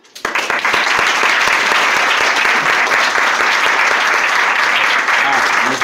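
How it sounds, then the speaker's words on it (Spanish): Sustained applause from a lecture audience welcoming a speaker, loud and steady throughout after a quick rise at the start. "recibímoslos con un grande aplauso"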